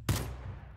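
A single sharp gunshot in the block-building game Minecraft, sudden and fairly close, followed by a short decaying tail over steady low background noise.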